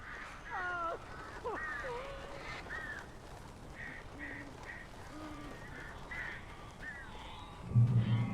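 Crows caw in Alan Wake Remastered, a series of harsh, slightly nasal calls scattered across the scene at moderate distance, with a brief low rumble of voice near the end.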